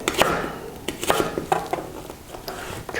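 A knife chopping an onion on a cutting board, a run of sharp, irregular knocks close by with a few louder strikes, alone without speech.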